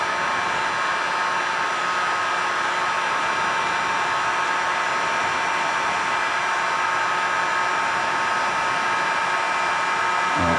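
A heat gun blows hot air steadily during a silver powder-paint job. Its loud, close, unbroken airy roar holds for the whole stretch with no talk.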